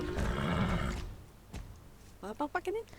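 A horse neighs in a video game, a few short whinnying bursts near the end after a stretch of louder mixed noise and brief talk.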